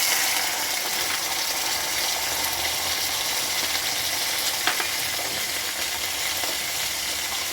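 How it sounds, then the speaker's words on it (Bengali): Onion and garlic fry in hot oil with black cumin, making a steady close sizzle and crackle throughout, with a faint clink of stirring partway through. "এবার এর ভেতরে আমি এখন এই পেঁয়াজ আর রসুনটা দিয়ে দেব।"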